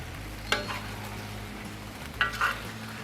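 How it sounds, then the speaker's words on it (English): Shrimp and chicken fry together in a pan for chow mein, a low steady sizzle broken by two sharp metallic clanks of a utensil striking the pan. "Get them shrimp in there cooking. Shrimp cook quickly, so they're the last thing to go in."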